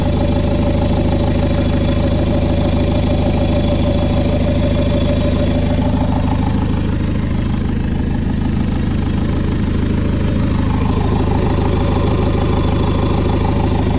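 A Renault Espace-type van engine (Ulysse) idles steadily just after a turbo was fitted, a continuous low rumble with a slight knock-like texture, close and fairly loud, with no talking.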